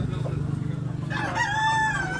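A rooster at a Cebu cockfighting event crows once, a loud near call rising in the second half over low background murmur and clucking.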